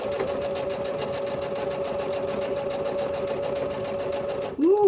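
Sewing machine stitching elastic on a twist turban cap, a steady close whirring run of rapid stitches that stops abruptly near the end, followed by a brief voice.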